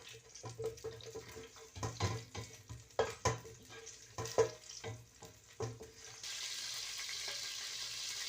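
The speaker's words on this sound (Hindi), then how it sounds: "प्याज डालती हूँ जो मैंने ग्राइंडर किया है।" Ground onion paste going into hot oil with cumin seeds and round whole dried chillies for a Lahori-style lobiya curry, stirred with scraping and clattering before a steady loud sizzle takes over near the end.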